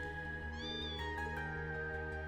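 A cat meows in the video game Trails Into Reverie, a couple of drawn-out, tonal cries heard over a steady background of game music and ambience.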